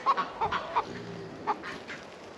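A broody hen on a South Carolina homestead gives a handful of short, soft clucks in quick succession, with a final cluck after a pause, nearby and alone over faint background.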